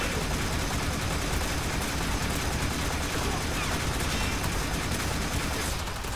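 Sustained, dense Boltor Prime gunfire in Warframe, hammering a level 75 heavy gunner Eximus in a continuous loud volley with no pauses.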